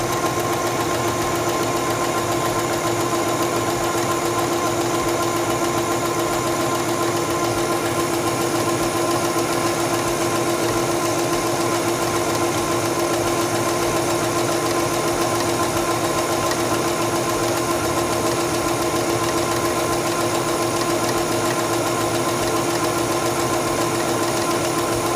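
A Singer 7258 computerized sewing machine stitches fabric with a steady, even mechanical hum and rapid needle chatter, running without a break throughout at constant speed, with no talking.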